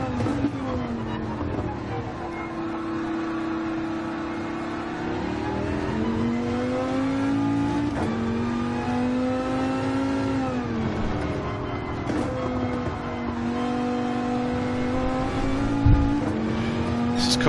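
F1 race cars from an F1 video game roar continuously, engine tones rising and falling as they rev and shift, with occasional sharper pitch swings as cars pass, loud and steady throughout.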